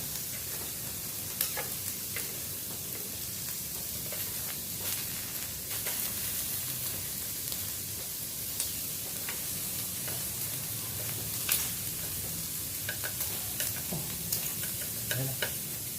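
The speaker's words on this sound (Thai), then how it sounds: "พริก เริ่มสุกแล้ว ย่างไป" Shrimp and chili peppers sizzle steadily on a hot grilling pan, a dense close-up crackle running throughout with scattered sharp pops and spatters.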